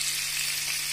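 Tandoori chicken sizzles in a covered frying pan, a steady close hiss of frying that holds even and unbroken, with no voices.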